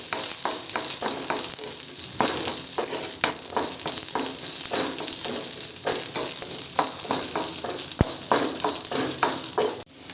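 Slit green chillies sauté in a hot pan for a mulaku curry, a steady loud sizzle broken by many quick scraping stirs that run the whole time without any voice.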